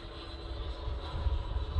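A Freewing Venom 90mm EDF model jet comes in to land, a steady whooshing ducted-fan whine that hums continuously and builds slightly, fairly close with no talk.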